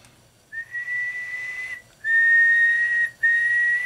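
A person whistles into a radio transmitter's microphone during a wattmeter test, giving two long steady whistled tones with brief gaps between them, close and fairly quiet, with no speech.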